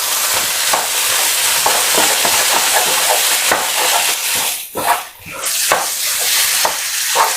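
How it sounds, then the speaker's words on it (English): Corned beef hash with ketchup is stirred in a hot frying pan, loud steady sizzling overlaid with repeated scraping strokes of a utensil, briefly dipping midway before the frying hiss returns. "Give that a good mix."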